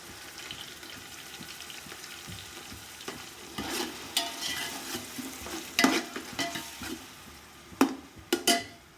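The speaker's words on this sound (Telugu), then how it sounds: "ఈ ఆనియన్స్ దాంట్లో వేసి బాగా ఫ్రై కానివ్వండి" Sliced onions fry in oil with ginger garlic paste for chicken biryani, a soft steady sizzle broken by scraping stirs that grow louder and more frequent toward the end.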